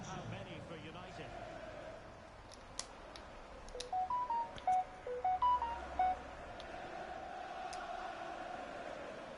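Phone notification tones ring out as a quick run of short, clear electronic beeps in the middle, over football match commentary and crowd ambience from FIFA 22.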